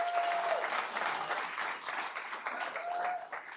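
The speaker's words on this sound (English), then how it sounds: "Round of applause to our credit upgrade team" Audience applause at a live mortgage-industry event, a brisk continuous clatter of many hands clapping at fairly close range, with a brief tonal whistle or feedback ring at the start and again near the end.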